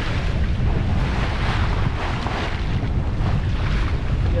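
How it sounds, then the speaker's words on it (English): A sailboat runs through choppy water in the Western Solent, heading toward Lymington. It comes through as a loud, continuous rush of wind and splashing chop, with heavy wind buffeting on the microphone and no speech. "No matter what the wind's doing, you always get this chop."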